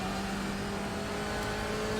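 BMW M8 race car in iRacing at Brands Hatch, its engine droning steadily at high revs for two seconds as it accelerates, a continuous close engine tone with no talk.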